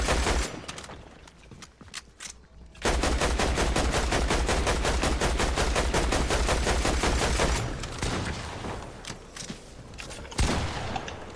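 Rapid, steady automatic gunfire in Fortnite rattles for several seconds, loud and close, with scattered single shots before and after the main burst.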